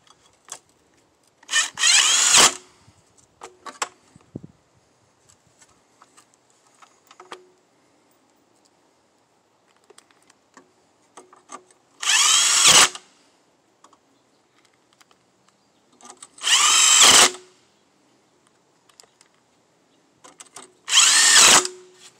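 A power drill drives 1 1/4 inch self-tapping screws in four separate loud bursts of a few seconds each, with quiet handling clicks in the pauses between them and no talking.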